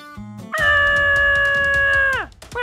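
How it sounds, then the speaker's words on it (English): A cartoon dog voices a short whine, then a sustained, loud, high-pitched howl of about two seconds that bends down at the end, set in a park. "Today I'm playing in the park with my dog Buddy."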